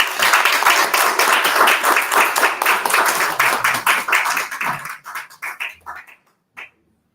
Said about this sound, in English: So let us receive Dave with a round of applause